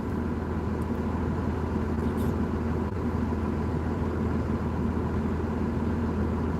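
A hotshot truck's diesel engine idles at about 1,000 RPM, a steady, continuous low rumble that holds unchanged throughout, close and fairly loud with no talk.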